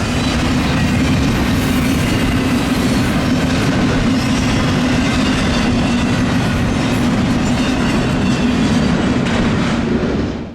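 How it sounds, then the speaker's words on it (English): BNSF Transfer Intermodal 267 freight train rolling past close by, a loud constant rumble with rhythmic clickety-clack of wheels over rail joints throughout, no voices. "this time on the BNSF Transfer Intermodal 267 from Columbus, Ohio to Chicago"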